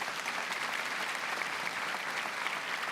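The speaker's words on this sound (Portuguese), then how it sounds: "Eu quero uma salva de palmas a todos os sócios." An audience at a church gathering applauds the members, giving sustained, even clapping from many hands at moderate distance, with no voices over it.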